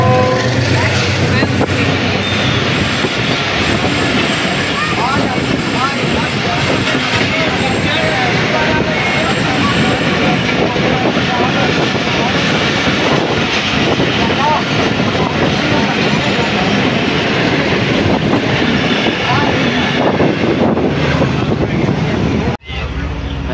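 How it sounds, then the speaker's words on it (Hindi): Jaffar Express passenger train passing near Sahiwal in Pakistan, a loud continuous rumble and rattle of wheels and cars going by close for the whole stretch, with voices talking over it. "40 डाउन जाफर एक्सप्रेस।"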